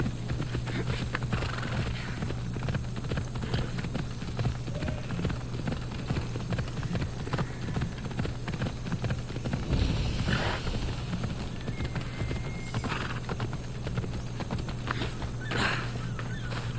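Horse hooves in Assassin's Creed Odyssey beat a steady, rapid galloping rhythm throughout, close and continuous, with a brief whinny near the middle over the game background.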